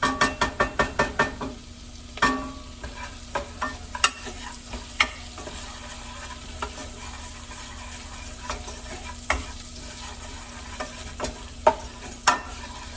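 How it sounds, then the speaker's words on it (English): Onion and garlic sizzle softly in a pan under a steady low hiss, broken by scattered taps and clicks of a utensil stirring, with a quick run of rhythmic knocks at the start and no voices. "I don't want the onion burning, the garlic burning there and getting a bitter taste"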